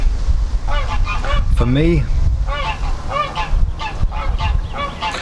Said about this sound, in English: excuse the geese, I'll carry on, hope you can hear me.